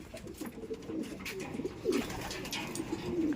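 Racing pigeons coo in a steady series of soft, throaty calls close by, with low murmuring and faint rustling around them and no talking.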